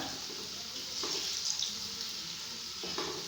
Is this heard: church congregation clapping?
no